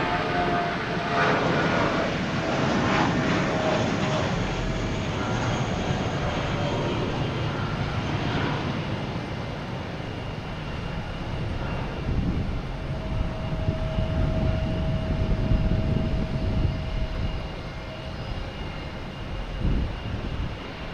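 Airplanes landing at Boston Logan Airport, a sustained broad jet roar lasting the whole stretch, swelling and easing as aircraft pass at a distance, with no talking.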